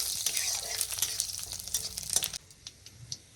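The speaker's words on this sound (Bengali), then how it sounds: "এখন এই যে তেল গরম হয়ে গেছে, আমি পাঁচফোড়ন, তেজপাতা, শুকনো লঙ্কা, শুকনো লঙ্কা দেওয়া সেন্টের জন্য।" Panch phoron, bay leaf and dried chilli dropped into hot oil, crackling in a loud dense sizzle that cuts down abruptly to a quieter spitting with a few pops near the end.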